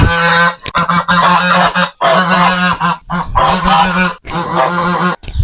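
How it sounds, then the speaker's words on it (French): Geese honk loudly and close in repeated bursts of harsh, nasal calls separated by brief pauses, several birds overlapping, with no speech. "je vais me faire attaquer par une oie"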